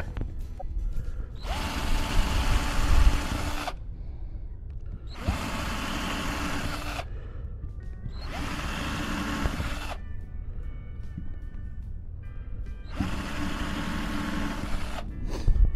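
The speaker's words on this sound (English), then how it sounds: "pre-drill those holes" A power drill whirs in four separate bursts of a couple of seconds each, with quiet pauses in between, pre-drilling screw holes in a board; close and moderately loud.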